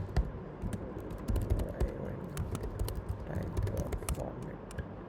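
Typing on a computer keyboard while working in a React text editor, rapid uneven clicks of keys close by, some in quick bursts, over faint room noise.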